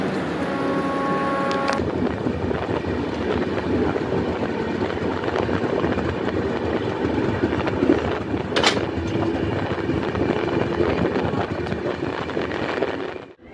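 A moving Puri–Howrah 12838 Superfast Express train produces a steady, loud rumble and rattle of wheels on track that continues throughout, with a brief tonal whine near the start.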